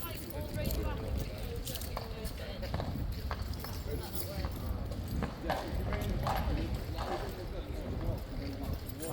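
Hooves of King's Guard horses clip-clop on hard ground as the mounts line up at a trophy competition, a steady scatter of sharp knocks close by under a busy crowd murmur and talk.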